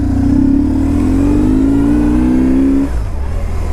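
A 2004 BMW R1150GS Adventure motorcycle engine revs up in a steady rising drone for nearly three seconds, then drops back to a lower idle, loud and close.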